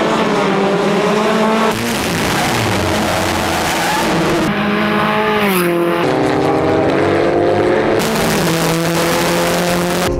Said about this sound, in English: these cars are going to be battling it out on the track later, doing speeds of up to 150 miles per hour